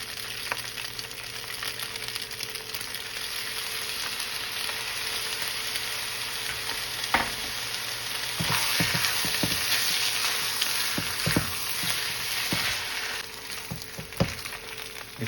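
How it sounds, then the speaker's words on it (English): Chicken fried rice sizzles steadily in a hot pan with soy sauce, a loud continuous frying hiss broken by the clinks and scrapes of stirring, and no voices. "Again, I fried up some rice. Now I'm going to add the"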